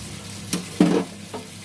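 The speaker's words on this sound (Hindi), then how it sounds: "अब इसको फिर 2 से 3 मिनट तक फ्राई करेंगे।" Chicken frying in a pan for biryani-style makhni handi, with a few bursts of sizzling as it is stirred, including one louder scraping stir in the middle.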